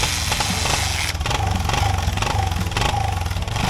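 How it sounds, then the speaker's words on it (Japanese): Honda TLR250R trial motorcycle just kick-started and running, a steady close single-cylinder engine rumble with a continuous mechanical clatter throughout, no talking. "エンジンかかるわけないんだよなって思いながら道をキックをしてみます。"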